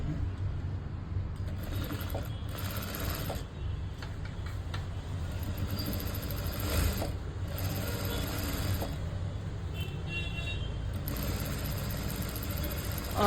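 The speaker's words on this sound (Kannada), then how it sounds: "ಈಗ ಇನ್ನೂ ಒಂದು ಸ್ಟಿಚ್ ಏನು ನಾವು ಹಾಕಬೇಕು ಆ ಸ್ಟಿಚ್ಚನ್ನು ನೀಟಾಗಿ ಹಾಕ್ಕೊತೀನಿ" A sewing machine fitted with a one-sided foot runs steadily along the edge of a beaded blouse sleeve, a continuous mechanical whirr with light ticking and brief pauses, close and moderately loud, with no talking.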